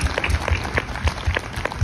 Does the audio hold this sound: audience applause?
yes